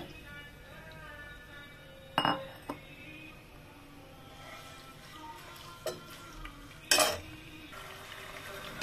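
Chicken fries in oil in a pan while a spoon stirs it, a quiet low sizzle broken by a few sharp metallic clanks and clinks of utensil against pan, near and without talking.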